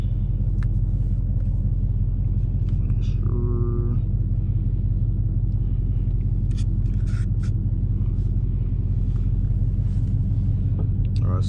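An 850 hp Dodge Hellcat engine pulls hard at full throttle, a loud, steady, deep rumbling drone that fills the whole clip from inside the car, with brief higher tones and scrapes over it.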